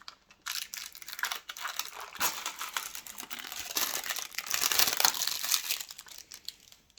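Plastic packaging on Belgian sausages is torn and opened close by, giving several seconds of loud, continuous crinkling and crackling that swells in the middle before fading out.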